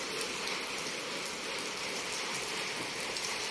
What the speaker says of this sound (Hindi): सुबह के टाइम जो है देखें बारिश हो रही है मुसलसल